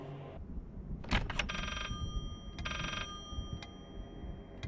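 Old telephone in the Layers of Fear horror video game rings in two loud, bright bursts of bell trill after a few sharp knocks, with a brief startled exclamation from a player.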